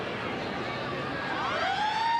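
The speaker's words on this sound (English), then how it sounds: "As the half-time siren sounds" A half-time siren sounds at a 1990 rugby league match between Balmain and Manly, a loud sustained wail that rises over steady crowd noise.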